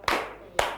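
Children clap their hands in a group, two sharp, close claps about half a second apart.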